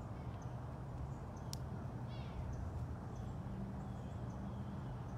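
Savannah cat at a big cat sanctuary giving a brief, faint chirping call over a quiet, noisy outdoor background, with no one talking.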